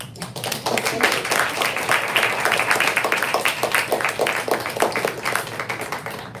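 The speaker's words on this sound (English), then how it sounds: "Deserve a round of applause." An audience at a Brookline Booksmith author event claps in a steady round of applause, dense overlapping hand claps that hold for several seconds before tapering, with no talk over them.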